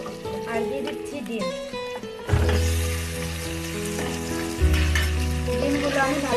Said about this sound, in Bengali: ডিমগুলো আমি ভালোভাবে ভেজে নেব।